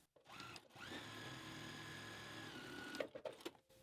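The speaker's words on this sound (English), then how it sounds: "quickly just do another row of stitching anywhere in the middle of this just to hold these flipped under edges down into place" A sewing machine runs a steady row of stitching across a fabric drawstring bag to hold the folded-under edges, a continuous close whirring hum lasting about three seconds before stopping with a few small clicks.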